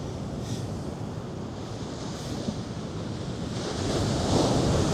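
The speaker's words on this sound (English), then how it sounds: "This is why I love going to the beach in winter." Ocean waves roll onto a beach in winter in New Zealand as a constant broad wash of surf, with wind buffeting the microphone and the roar swelling near the end, and no voices.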